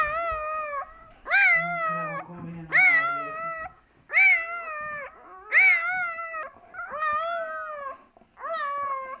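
Newborn puppies cry in a series of high, wavering squeals, about seven drawn-out cries in a row, close and clear, with a low murmur briefly beneath them.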